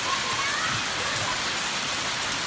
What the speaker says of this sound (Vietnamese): Ôi đá rơi rất là nhiều.